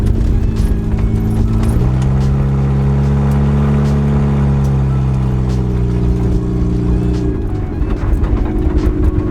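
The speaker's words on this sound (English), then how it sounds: "It sounds like the sway bar bushings are just a little bit rattly, but besides that, it's good and straight." A 1991 Honda Civic Wagon RT4WD drives along with its engine droning loudly from inside the cabin, pitch stepping up as it accelerates and settling back down. Faint rattles from worn sway bar bushings sit under the steady engine noise.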